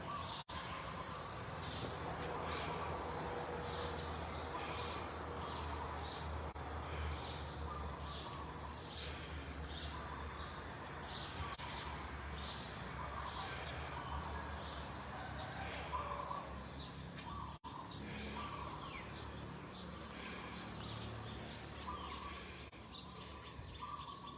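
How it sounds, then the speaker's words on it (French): Birds sing outdoors at a budget hotel in Thailand, steady chirps and calls repeating over a constant background hum, with no talk. "je vous laisse écouter les oiseaux"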